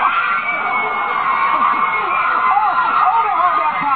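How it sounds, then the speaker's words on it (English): A large crowd of fans screams and cheers continuously at a celebrity appearance, with overlapping high-pitched shrieks, whoops and chatter sustained at a loud, steady level throughout. "Just turn around and face them again so we can hear them scream one more time."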